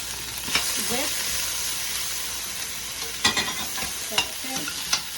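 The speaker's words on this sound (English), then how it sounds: "Saute the pak choy vegetables." Pak choy sautéing in a hot pan, with a steady broadband sizzle and a few sharp stirring scrapes and clacks of a utensil against the pan, close and continuous.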